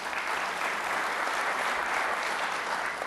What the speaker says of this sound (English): By applause, how many of you?